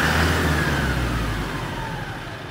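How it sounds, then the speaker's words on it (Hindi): An Eicher Pro 3015 BS6 truck's diesel engine runs through its exhaust, a steady low rumble with a slight easing in pitch, close and fairly loud, with no talk. "तो भाई इस गाड़ी का एग्जॉस्ट साउंड आपको चेकआउट कराते हैं"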